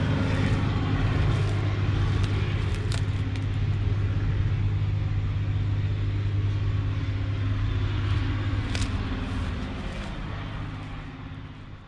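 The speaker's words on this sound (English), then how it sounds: "You can hear that loader." A loader engine runs at a Missouri gravel plant, producing a steady, heavy low rumble that holds throughout and eases off slightly near the end.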